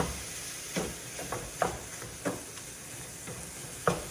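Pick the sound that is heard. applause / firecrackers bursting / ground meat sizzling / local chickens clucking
ground meat sizzling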